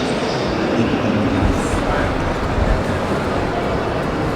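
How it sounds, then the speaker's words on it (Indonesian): A DB train rumbles at a railway station in Berlin, giving a loud, continuous low roar with rail noise. A short higher squeal sounds partway through, set against the busy station ambience. "Kalau DB itu berarti udah stasiun kereta."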